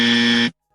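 A single loud, flat electronic buzzer blares for about half a second, steady and harsh, then cuts off sharply into silence.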